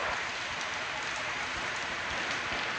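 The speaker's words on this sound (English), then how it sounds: "you can hear the noise it makes on the metal roof." Torrential rain drums steadily on a metal barn roof, a dense, loud, unbroken hiss and patter with no break and no voices.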